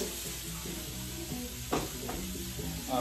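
Pork belly sears in a hot pan with a steady, soft sizzle and a few louder crackles and pops, and no talk.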